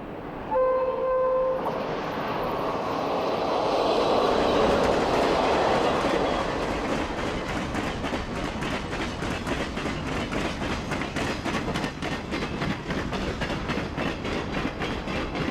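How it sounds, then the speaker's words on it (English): The City of Los Angeles passenger train, second section of Train 104, rolls by at Echo, Utah, opening with a brief horn blast, then a loud rumble and steady clickety-clack of wheels passing close for many seconds. "The second section of Train 104, the City of Los Angeles, rolls by at Echo, Utah."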